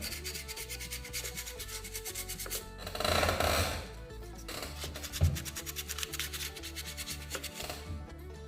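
Hand sanding a wood carving with a worn piece of sandpaper, continuous close rubbing and scratching with a louder, rougher burst midway, over a steady background hum.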